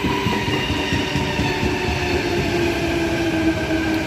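A Sydney train arriving on platform 1 at Kogarah station on a Bondi Junction via Central service, giving a loud, steady rumble of wheels and motors with faint squealing tones throughout.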